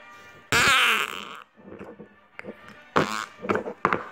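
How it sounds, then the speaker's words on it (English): A cheap plastic toy bought from a store's toy section lets out a loud, buzzy fart noise up close, followed by a few shorter, quieter sputters and bursts. "that makes a fart noise"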